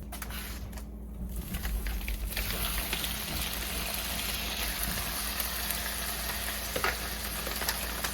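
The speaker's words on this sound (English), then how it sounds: "now I wanna get going on getting our onions caramelized" Onions sizzle loudly in melted butter in a pan as they begin to caramelize, a dense, steady hissing fry that swells after a brief quieter start and carries on with no talk.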